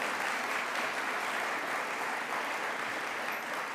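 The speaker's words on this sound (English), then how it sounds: "So let's give Amy a round of applause." An audience applauds Amy Poehler at a Miami health initiative event; a thick, continuous roar of clapping holds evenly from start to finish, loud and full with no talk over it.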